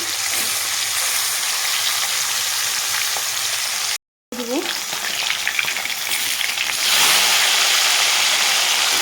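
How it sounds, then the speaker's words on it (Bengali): Pieces of katla fish sizzle and crackle loudly in hot oil, a dense steady frying hiss that breaks off for a moment midway and then returns even stronger. "তেল গরম হয়ে গেছে দিয়ে দিব মাছ আমি আমি লাল লাল করে ভেজে নেব প্রথমে"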